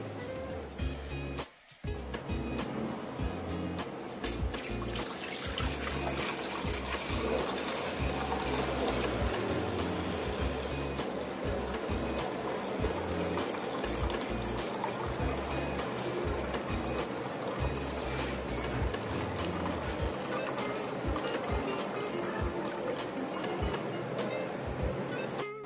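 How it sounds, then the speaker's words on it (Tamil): Water being poured and drained off settled wheat milk while making wheat halwa, a steady continuous trickling and splashing flow lasting throughout, fairly close with no talk. "நம்ம மேல தங்கி இருக்க தண்ணிய இப்போ தனியா வடிச்சு எடுத்துக்கலாம்."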